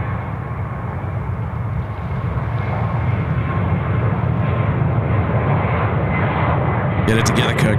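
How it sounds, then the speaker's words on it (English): Asiana jet airliner on runway 34 right at Sydney Airport, a loud continuous roar of jet engines heard from outdoors, with a few sharp clicks near the end. "Asiana now on runway 34 right."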